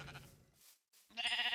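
Minecraft sheep bleat in short, close, moderately loud calls, with a brief pause between two wavering baas and no talking.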